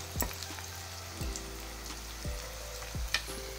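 Onion, ginger and garlic frying in a pan for egg tadka, a steady close sizzle with occasional spatter and a few scraping stirs.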